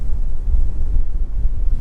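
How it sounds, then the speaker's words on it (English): Low, rumbling wind buffets the microphone continuously, a loud muffled roar with no other sounds. "it is starting to get a touch windy up here"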